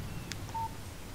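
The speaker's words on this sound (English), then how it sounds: "Text message from Barry." A phone text message alert in the video game Alan Wake gives a short, clean electronic beep tone, faint over steady low background hum, with a small click just before.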